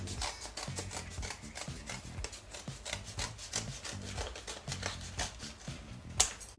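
Scissors cut through a folded foam sheet while shaping a fish skeleton, a close, steady run of soft rasping, rubbing snips with a sharper snap near the end, with no talking.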